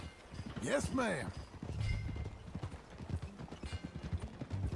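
Steady clip-clop of horse hooves at a riding pace in Red Dead Redemption 2, with a horse whinny near the start and background music underneath.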